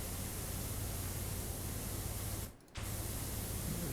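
A pressure washer in PowerWash Simulator sprays in a continuous loud hiss that cuts out briefly near the end and then resumes, with no voices.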